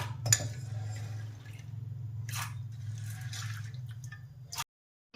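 Washed peas poured into water in a pot, with faint wet splashes and patters in brief clusters over a low steady hum, quiet and close, with no voices before the sound cuts off.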